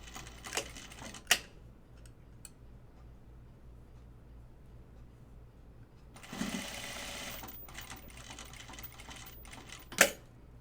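Sewing machine stitching a pocket onto a Bin Bin pattern, heard in one sustained whirring burst of several seconds, with a few sharp clicks before and after and quiet handling noise between.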